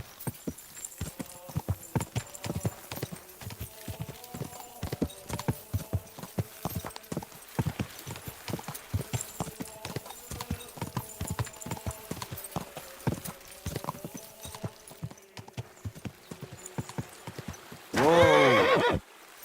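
Horse hooves clip-clop in a steady walking rhythm in the video game Kingdom Come: Deliverance 2, close and distinct. Near the end a loud whinnying neigh breaks out.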